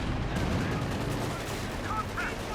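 .50 caliber machine gun fire in Company of Heroes 2 crackles in a dense, continuous burst mixed with other battle noise, and a voice talks over it throughout.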